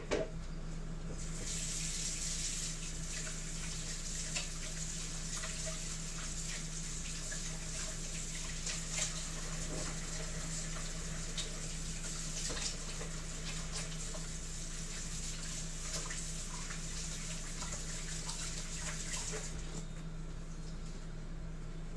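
A kitchen sink tap runs steadily for about twenty seconds, a close, continuous rush of water with faint clinks, starting and stopping cleanly.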